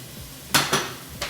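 Cooked chickpeas in a thick curry sauce get stirred in a pan, producing three separate clacks of a utensil against the metal over a quiet background, close and fairly loud.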